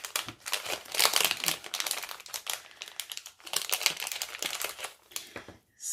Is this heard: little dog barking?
no